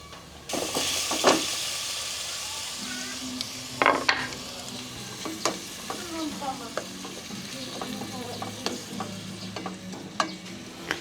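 Tomatoes stirred and frying in a pan with onion, garlic and ginger, a steady close sizzle with repeated utensil scrapes and light clinks throughout, no talking.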